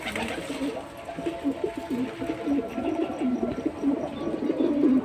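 Pigeons coo outdoors in the sun on a windy first of January, a steady run of soft, repeated throaty coos close by, several birds overlapping with no talk.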